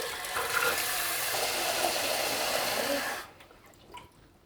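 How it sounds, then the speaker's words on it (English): Tap water runs hard into a pan for about three seconds as a steady, loud broadband rush, then cuts off, leaving a quiet room with a couple of faint clinks. "What we need to do first is to actually fill up the pan with water."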